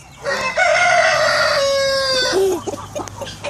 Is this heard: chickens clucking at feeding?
yes